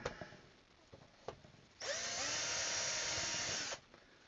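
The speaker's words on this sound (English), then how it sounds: "Nice small drill bit works real good because it goes in and out of the stuff real easy." A few light knocks, then a small electric drill with a small bit whines steadily for about two seconds before stopping, assembling a Chinese Autoflow beehive; close and clear, no talking.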